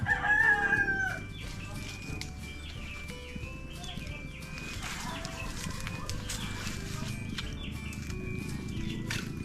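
Chickens clucking close by with a rooster crowing, set against a steady outdoor background of farmyard noise.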